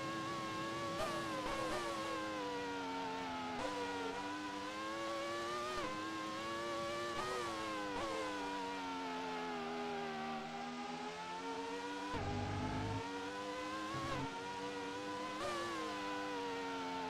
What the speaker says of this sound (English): Sliding the car through the last couple of corners